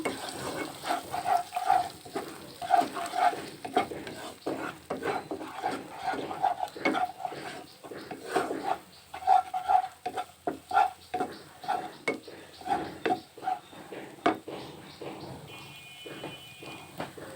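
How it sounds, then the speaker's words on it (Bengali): Egg fries in a pan while being stirred, giving a low sizzle under repeated quick scraping strokes in an uneven rhythm, close and moderately loud, with no talk. "এবারে ডিম ভেজে নেব ডিমটাকে এরকম নেড়ে নেড়ে ভেজে নেব"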